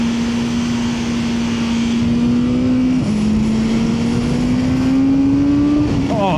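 A 2025 BMW S1000R litre naked motorcycle pulls hard in second gear, its engine note rising steadily in a loud, continuous howl with a brief dip mid-way as it climbs again, close and dominant throughout.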